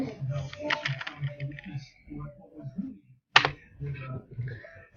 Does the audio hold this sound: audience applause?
no